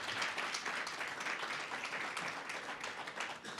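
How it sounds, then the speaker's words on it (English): A round of applause at a South African Chefs Association annual general meeting, dense steady clapping from a crowd filling the room throughout, with no speech over it. "Can you just give them a round of applause?"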